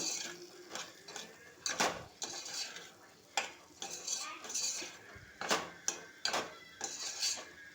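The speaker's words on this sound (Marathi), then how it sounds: "आता हे छानपैकी आपण असं परतवून घेऊया कापं आपली आंब्याची" Raw mango pieces being stir-fried with turmeric and homemade red chilli masala in a pan for sweet-sour pickle, a spoon repeatedly scraping and clinking against the pan in irregular strokes with a faint sizzle, close and fairly quiet.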